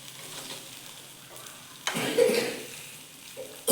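Pumpkin appe frying in a pan give off a soft, steady sizzle, with louder bursts of stirring and crackle toward the end, close and fairly quiet.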